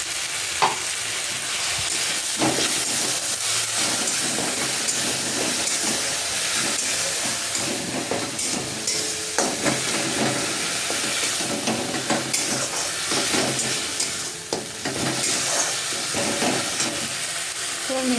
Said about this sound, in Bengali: পেস্ট করে রাখা মশলাটাও দিয়ে একটু নেড়ে নেবো আগে